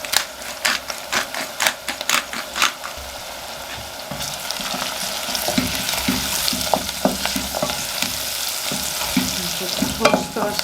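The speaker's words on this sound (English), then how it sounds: "fry them up in with the onions" Spices frying with onions in a pan (ground cumin, black pepper and other spoonfuls of spice): a steady, close sizzle with scraping stirs and clicks of a utensil against the pan, loudest and busiest in the second half.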